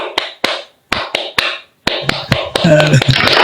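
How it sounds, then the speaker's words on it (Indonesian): Group rhythmic clapping in a tepuk pramuka (scout clap) pattern: sharp claps in short bursts separated by pauses, shifting into denser, continuous clapping with a sustained tone near the end. "Tepuk tangan, tepuk pramuka."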